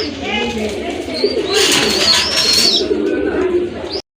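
Rajgolla pigeons cooing at a pigeon seller's in Gajipur, soft throaty coos overlapping at close range amid a busy loft with chirps and flutters, a voice talking faintly underneath, cutting off abruptly near the end.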